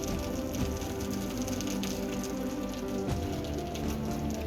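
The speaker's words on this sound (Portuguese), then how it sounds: "Segue a chuva. Chuva forte, chovendo de balde" Heavy rain pours down in Brazil, a dense and constant wash of drumming drops with a few sharper clatters, loud and continuous with no one speaking.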